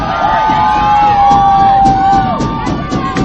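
Home Quaker crowd at an Earlham college field hockey game cheering a defensive play, loud close shouts and whoops swelling together and holding before easing slightly.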